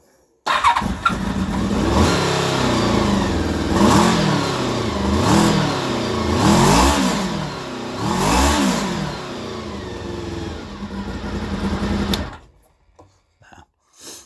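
An engine starts up close by and revs in several rising and falling bursts for about twelve seconds, then cuts off abruptly into near silence, with no talking.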